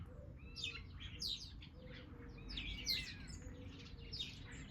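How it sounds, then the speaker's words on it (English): Several birds, including blue tits and a jackdaw, chirp and warble at once in a small woodland garden, high quick calls overlapping against a soft outdoor background hum. "You can hear there's lots of different birds."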